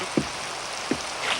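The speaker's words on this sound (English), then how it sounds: "I don't mind a bit of rain." Rain falling outdoors, a steady soft patter with a couple of heavier drops or splashes standing out briefly, no voices.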